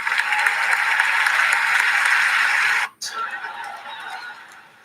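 A live audience applauds loudly and steadily at a podcast taping, the clapping cutting off abruptly near the end, followed by quieter background noise and talk.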